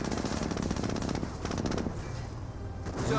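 Rapid machine gun bursts in a Company of Heroes battle, infantry being cut down; loud, close, continuous rattling fire across the whole stretch with slight dips between bursts.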